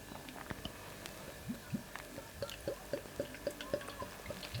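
Ayinger Jahrhundert beer, a very light-coloured lager with some sourness, poured into a glass: a quiet run of soft liquid drips and glugs in a steady rhythm, close by.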